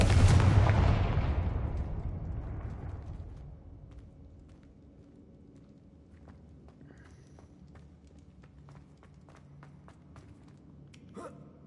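The Confringo fire spell from Hogwarts Legacy bursts with a loud, deep boom at the start and rumbles away over a few seconds, leaving quiet game ambience and faint clicks.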